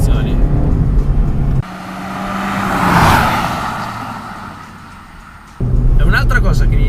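A 2018 Suzuki Swift Sport's small engine hums on the move, rising to a swelling pass in the middle before easing off, with someone talking over the driving noise before and after.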